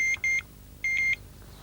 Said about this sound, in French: il faudra une plus forte traction sur la ligne pour déclencher le bip